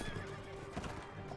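Horse neighing loudly in Mount & Blade: Warband amid medieval battle noise, a strong whinny over hoof clip-clop and a dense wash of combat sound, without talk.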